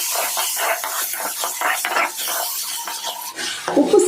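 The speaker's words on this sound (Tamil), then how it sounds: "நம்ம சேர்த்துக்கிட்ட உப்பை தக்காளி கூட நல்லா கலந்து வச்சுருவோம்." A spoon stirs salt into tomatoes cooking in a pan, making loud, close scraping strokes in a quick, uneven rhythm over a light sizzle. The clip ends with a brief metallic clatter.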